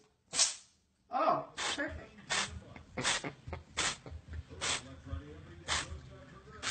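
A cat sneezes several times in quick succession, sharp bursts amid soft snorts, with a person's voice murmuring nearby.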